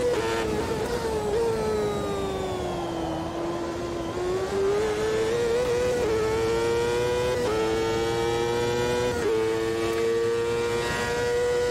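High-revving V8 race car engine in Automobilista 2 at Road America, a loud sustained scream near 15,000 RPM with repeated gear shifts stepping the pitch up and down, alone throughout.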